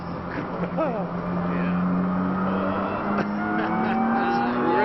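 A BMW M3 four-seater driving flat out at about 200 km/h, its engine a sustained rising drone with gear-like pitch shifts heard from inside the cabin, steady and loud, with brief voices over it.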